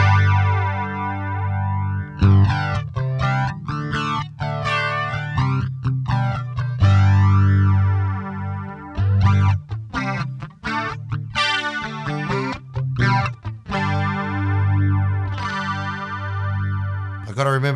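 Electric guitar played through a PastFx Deluxe Elastic Mattress modulation pedal with the depth turned up, sustained notes and chords swirling and warbling in thick, wide pitch wobble, loud and continuous throughout.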